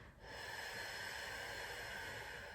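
One long, steady exhale through the nose during a Pilates shoulder bridge, close and breathy, holding an even hiss for a couple of seconds with no talking.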